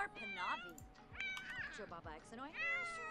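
Several cat meows from The Sims 4 game, a run of short rising and falling calls repeated across the stretch, fairly close and clear, mixed in with game sounds and a person talking over them.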